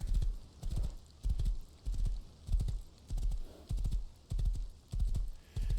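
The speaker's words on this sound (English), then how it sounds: "Go, horse, go." Horse galloping in the video game Rust, a steady run of loud, close hoofbeats thudding about twice a second with no break, no voices over them.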